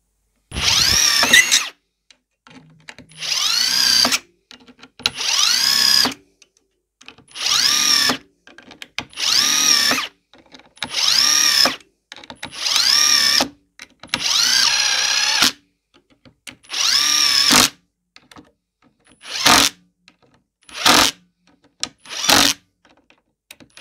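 A Ryobi R18IDBL 18V brushless impact driver driving screws, heard alone as a series of about a dozen loud, close bursts of rattling hammering, each a second or two long, separated by short silences.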